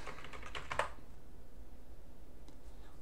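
A short burst of keystrokes on a computer keyboard as a Linux command is entered, a quick cluster of close, crisp clicks ending in a firmer tap, then quiet room tone with a couple of faint later taps.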